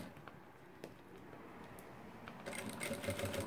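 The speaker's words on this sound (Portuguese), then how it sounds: "E fazendo a sua costura" A sewing machine stitches a plastic organizer, faint and close, a soft mechanical patter with a few clicks, then faster, louder stitching in the last second, no talking.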